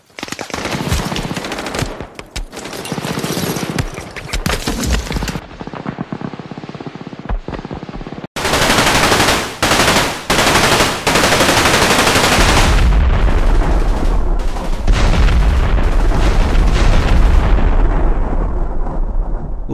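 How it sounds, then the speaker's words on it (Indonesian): Intense battle from the war film Saving Private Ryan: rapid machine-gun bursts, scattered gunshots and heavy explosions crowd together loudly, with abrupt cuts between dense volleys and deep rumbling blasts. "Pertempuran pun berlangsung sengit."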